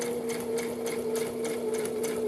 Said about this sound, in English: you're going to sew down the edge here